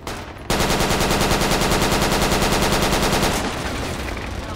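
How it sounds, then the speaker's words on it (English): Sustained machine gun fire from the video game Project Reality: a loud, rapid, evenly paced burst of shots lasting about three seconds, followed by a fading echoing tail and a quieter background rumble. "You got a fucking machine gun."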